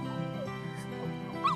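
A lost dog whimpers and yips softly in short whining cries, with a high-pitched whine near the end and faint background voices.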